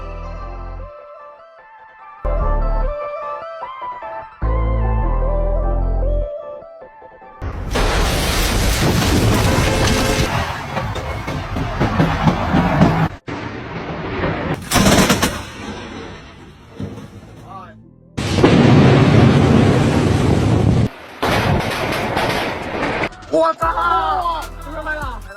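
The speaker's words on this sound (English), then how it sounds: "Lightning versus Burj Khalifa, the strike that made the ground shake and sky go dark." Lightning striking the Burj Khalifa, heard as loud booming thunder cracks that come in several abrupt bursts with sudden cuts and quieter gaps between them.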